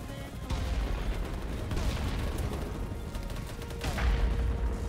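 Continuous battle gunfire in BattleBit Remastered, with overlapping distant and nearer shots rolling on without pause and a louder flurry near the end. It is a dense, moderately loud soundscape with no clear voice on top.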